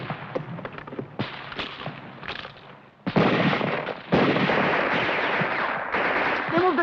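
Mortar fire from a war film set in World War II: sharp blasts and crackling bursts come in irregular sequence, then a heavier sustained barrage, loud and close with a little shouting between.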